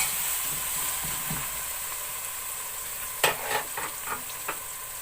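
Garlic paste frying with browned onions in a pan gives a steady, close sizzle, with a few brief scraping stirs near the end.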